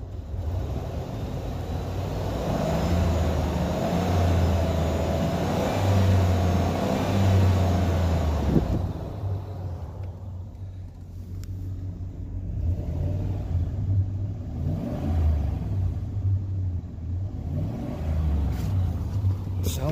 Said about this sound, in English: Let you listen to the motor.